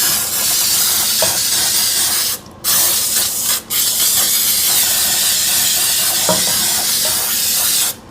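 Water sprayed onto a greasy pan set in the open lid of a dishwasher, a loud continuous hissing spray with two brief pauses, close and without talk.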